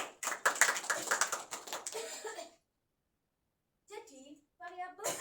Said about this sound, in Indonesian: Beri tepuk tangan untuk Mbak Ama.